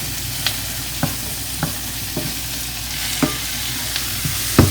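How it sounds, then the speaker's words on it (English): An eggplant dish with pepper being stirred in a frying pan: a constant sizzle broken by regular spoon scrapes and taps roughly every second, close and clear, with no talking. "Now we're gonna add the pepper. You can keep on mixing."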